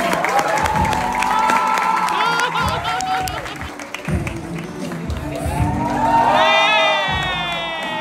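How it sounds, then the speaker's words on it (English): An audience claps and cheers throughout, with shouts and whoops over a steady crowd roar, as voices talk over the noise. "please keep the applause going for her"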